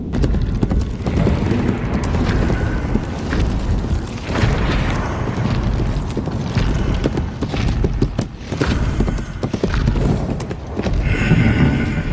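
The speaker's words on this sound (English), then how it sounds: "you may have thought that this was the Messiah, Jesus, returning on his horse" Horse hooves clip-clop steadily under dense, loud background noise with occasional deep booms, a continuous rhythmic clatter running the whole time.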